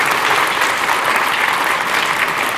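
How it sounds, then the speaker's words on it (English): Dense, steady audience applause at a public lecture on fusion energy, loud and continuous throughout with no talking over it. "don't you think Sylvia needs a round of applause for the great work she's done?"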